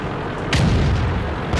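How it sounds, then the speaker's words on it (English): A tank fires its gun in World of Tanks, producing a single loud, heavy boom. Dense rumbling noise surrounds and follows it. "Those were some pretty big explosions."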